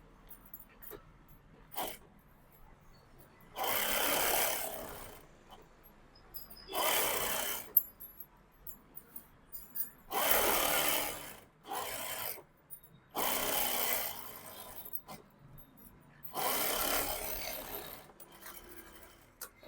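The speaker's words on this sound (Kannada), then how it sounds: "ಈಗ ಇದನ್ನ ಟರ್ನ್ ಮಾಡ್ಕೊಂಡು ಸುತ್ತ ಸ್ಟಿಚ್ ಹಾಕೊಳ್ಳಿ" A sewing machine stitches around a fabric sleeve up close. It runs in five short bursts of one to two seconds, each separated by a quiet pause.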